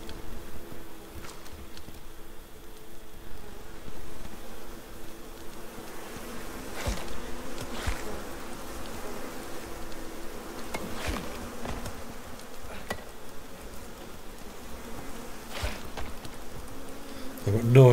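Bees in the video game ICARUS buzz steadily all the way through, a continuous droning hum with faint taps and clicks scattered over it.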